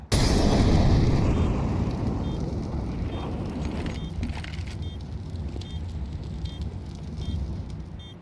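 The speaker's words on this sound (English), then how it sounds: "Throwing a Molotov." A Molotov thrown in Counter-Strike on the Vertigo map after the bomb is planted, a loud whooshing burst of flame that settles into a steady crackling burn with faint repeated beeps.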